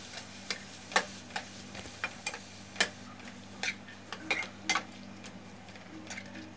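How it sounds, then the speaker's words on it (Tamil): Vegetables with red cabbage being stirred in oil in a pan, quiet and close: scattered spoon taps and scrapes against the metal at an uneven rhythm over a faint low hum. "இப்போ எல்லாத்தையும் சேர்த்துட்டு எல்லாத்தையும் ஒரு வாட்டி நல்லா மிக்ஸ் பண்ணி விட்டுடலாம்"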